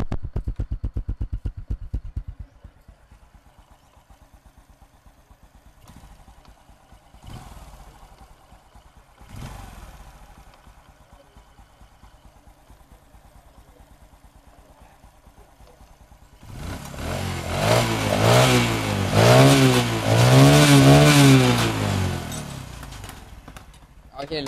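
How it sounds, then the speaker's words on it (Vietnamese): A motorcycle engine, just repaired, sputters and idles unevenly, then revs up loudly and holds a strong, throaty roar near the end. "Máy nổ rồi nè"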